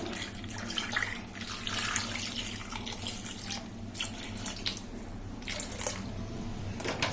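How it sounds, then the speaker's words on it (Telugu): Water is poured from a tap or jug into a pressure cooker while Telugu food is prepared in a home kitchen, a steady close splashing flow that runs the whole time with no talk. "ఇప్పుడు కుక్కర్లో వేసుకోవడానికి వాటర్,"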